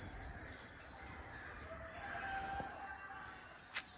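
A rooster crows faintly in the distance on an early morning in Jaffna among coconut and areca palms, its call rising briefly over a steady, shrill chorus of insects.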